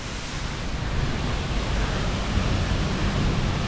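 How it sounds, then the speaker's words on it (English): Rushing water roaring from the Rabacca Waterfall in St. Vincent and the Grenadines, a dense, constant, heavy wash of noise close by, with no voices. "We are here at the Rabacca Waterfall."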